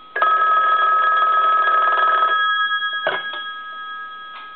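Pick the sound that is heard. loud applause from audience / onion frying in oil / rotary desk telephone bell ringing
rotary desk telephone bell ringing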